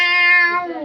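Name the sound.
talking bird imitating a cat's meow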